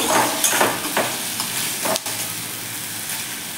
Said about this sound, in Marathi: आणखी 1-2 मिनिटभर आपण हा भोपळा शिजवून घेऊया